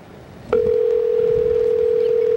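A steady telephone dial tone starts abruptly about half a second in and holds at an even, loud level while a call is being placed, with a faint background hum before it.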